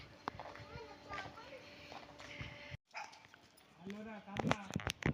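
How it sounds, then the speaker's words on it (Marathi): A dog barks and whimpers in short, excited bursts near a parked car as people arrive, mixed with loud overlapping talk and a brief dropout midway. "लगेच कळलं तिला की आम्ही आलोय तिथं भुंकाय लागली"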